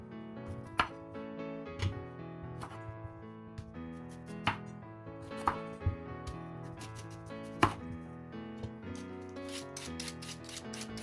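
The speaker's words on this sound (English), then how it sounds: "while we have a little quiet peeling and chopping time with the parsnips" A knife chops parsnips into large chunks on a board, with scattered firm knocks and scraping over steady background music, ending in a faster flurry of cuts.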